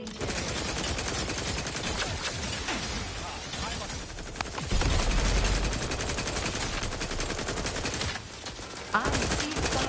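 Rapid weapon fire from The Outer Worlds 2 crackles through dense, continuous game noise, with bursts of shots layered under a talking voice and a brief heavier thump midway.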